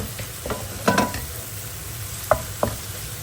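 Masala okra cooks in a pan with a low, steady sizzle under a few sharp clinks and scrapes of a spoon stirring.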